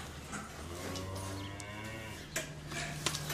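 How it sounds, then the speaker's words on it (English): A cow in a farm herd gives a long, low, drawn-out moo nearby, with faint handling noises and livestock shuffling in the background. "Just worming the cattle and checking the passports."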